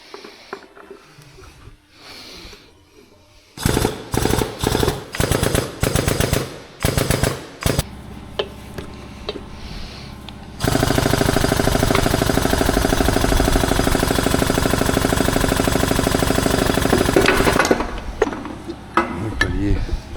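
Hydraulic jack pressing a seized bearing part out of a Krone machine in a workshop, with a run of loud rapid pumping clacks followed by a sustained harsh mechanical rush, ending in quieter handling noise.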